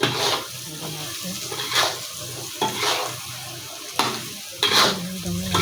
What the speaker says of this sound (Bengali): আলুটা দিয়ে দিচ্ছে, আলুটা ওর সাথে নেড়ে নেওয়া হবে